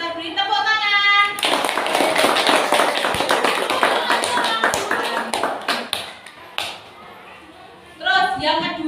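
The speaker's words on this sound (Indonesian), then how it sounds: "Kita beri tepuk tangan." A crowd of children claps and cheers together for several seconds, loud and dense, with chatter before and after.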